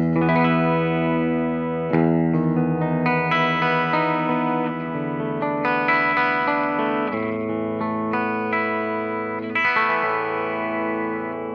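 Jackson Soloist SL2FM electric guitar switched to passive pickup mode, playing a continuous distorted phrase with chorus and light echo, steady notes and slides, close and loud without any talking.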